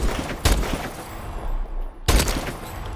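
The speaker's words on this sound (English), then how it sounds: "Now we got the Lynx, which is still a 2-shot body shot sniper" Two loud, sharp shots from the Lynx sniper rifle in Call of Duty Advanced Warfare, spaced well apart, each a sudden blast followed by a fading tail over a busy game background.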